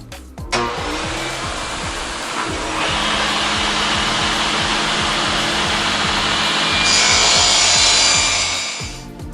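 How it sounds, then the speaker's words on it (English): A saw rips lengthwise through a 1x6 wooden board, giving a continuous loud, close whirring cut that swells slightly toward the end before winding down. "the first step in this video is going to be to rip down this 5-inch chunk of 1x6"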